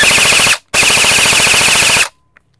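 An HFC airsoft rifle shooting around 500 FPS fires loud, fast full-auto bursts up close, a half-second burst, a brief pause, then a longer burst of about 1.3 seconds, ending abruptly.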